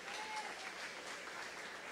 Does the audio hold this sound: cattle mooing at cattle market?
no